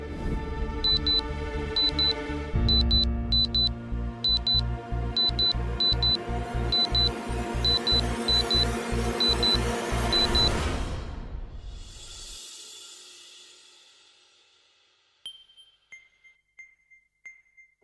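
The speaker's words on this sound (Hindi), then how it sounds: "अलार्म की आवाज तक नहीं सुनाई दे रही।" Electronic alarm clock ringing with rapid repeated high beeps in bursts over a sustained tonal background, loud and close, fading out and followed by a few quieter chime-like tones.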